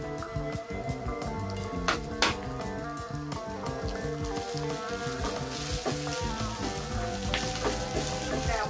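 Onions and green chillies sizzling steadily in a pan, a continuous crackling fry with occasional stirring clatter, close and unbroken throughout.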